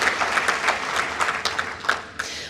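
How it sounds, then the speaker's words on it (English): Applause from a conference audience at a scientific meeting's welcome ceremony, dense clapping at steady moderate loudness with a few sharper individual claps standing out. "I'd like to give them another round of applause"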